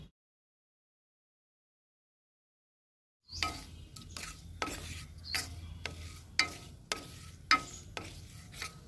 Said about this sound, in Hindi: अब इस मिश्रण को थोड़ा सा चला देते हैं, ढक देते हैं